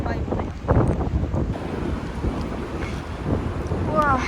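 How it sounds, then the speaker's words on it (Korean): Strong seaside wind at Momochi beach in Fukuoka buffets the microphone with heavy, gusting rumble that rises and falls continuously, with faint sea sounds underneath. "바닷가라 그런지 바람이 엄청 많이 부네"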